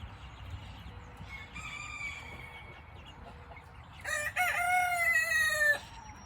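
Young chicks, a Cochin and a Silkie among them, in a farm pen, with a rooster crowing loudly nearby. Two long crows carry over a soft clucking background, the second one louder and closer.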